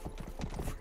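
Horse hooves clip-clop in a quick, even rhythm in the medieval video game Rustler, several soft close hoofbeats running through the short stretch with no talk over them.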